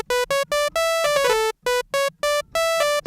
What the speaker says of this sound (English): this is what the default sound from that one analog oscillator sounds like